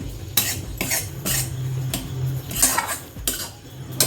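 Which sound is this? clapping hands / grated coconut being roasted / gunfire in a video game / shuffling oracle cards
grated coconut being roasted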